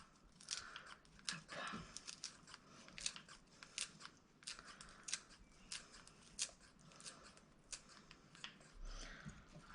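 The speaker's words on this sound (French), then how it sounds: "Je vais prendre des ciseaux, je vais la ciseler pour qu'on ait quand même le goût de la menthe." Scissors snip repeatedly through fresh mint leaves in a kitchen, a quick irregular series of soft crisp cuts with light leafy rustling, quiet and close.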